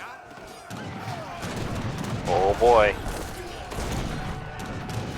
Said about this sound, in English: Heavy cannons coming in.